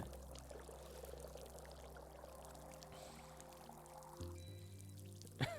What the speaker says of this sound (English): I could just water this tree constantly.